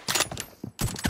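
Gunfire from a match of the mobile battle royale game PUBG Mobile, heard as two dense bursts of rapid broadband shots separated by a brief lull, fairly close and loud.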